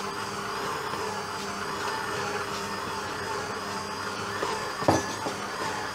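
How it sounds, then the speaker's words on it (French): A bread machine kneading dough as oat flakes are worked in, giving a steady, loud motor whir and churning rumble throughout, with one brief knock near the end. "Donc continue à pétrir, à intégrer donc tous ces flocons d'avoine dans notre charmante boule."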